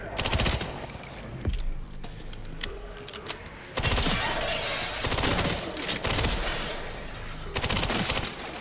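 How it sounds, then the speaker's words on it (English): Rifle gunfire in the Resident Evil 9 video game: loud, near, sustained automatic bursts with sharp cracks and some shattering impacts, continuing through most of the stretch with brief pauses between volleys. "I don't know why I don't always use my rifle."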